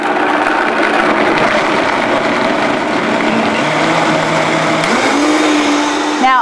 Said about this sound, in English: Now I'm using a Vitamix blender,